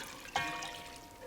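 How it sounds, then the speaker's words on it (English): Two cups of water go into a pot for crawfish étouffée: a short, quiet splash followed by a soft trickle that fades out. "Now we're gonna put 2 cups of water."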